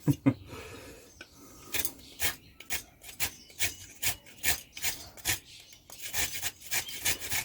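Smith's tinder maker scraping shavings off a piece of wood, producing a series of close, rough rasping strokes in an uneven rhythm that grows quicker and more regular toward the end.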